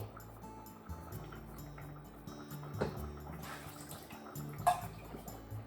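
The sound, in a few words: draining braised pork belly after cold water rinse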